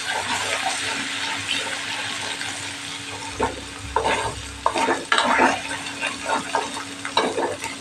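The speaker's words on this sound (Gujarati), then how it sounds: "આદુ મરચાંની પેસ્ટને થોડી એવી સાતડી લેવાની" Ginger-chili paste sizzling in hot oil with asafoetida in a pan for a Kathiyawadi cauliflower-potato dish, a bright constant frying hiss broken by close scraping stirs toward the end.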